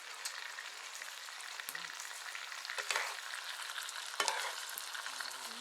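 Three pounds of ground beef with salsa crackle quietly in a pan under a soft continuous sizzle, with two louder scraping stirs near the middle and end.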